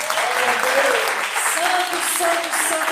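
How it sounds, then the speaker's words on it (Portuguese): Church congregation applauding during a Portuguese-language family service, a continuous bed of clapping with voices singing or calling over it throughout. "Aplauda o nome de Jesus."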